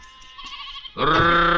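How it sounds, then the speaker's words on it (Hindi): Sheep bleat loudly and close in a herding scene, one long wavering call rising out of quieter bleats and background noise. "तुम लोग भेड़ हाँक रहे हो"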